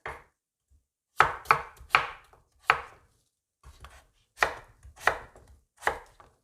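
A knife chops potatoes firmly against a cutting board in irregular clusters of sharp, close thuds, with short pauses between strokes.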